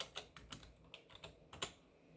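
Computer keyboard being typed on in short bursts of crisp key clicks, close and quiet, with no talking.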